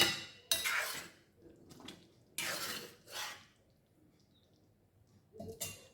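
A spoon stirs capsicum masala gravy curry in a cooking pot, giving several separate bursts of clattering and scraping against the metal with quiet gaps between them. No one talks.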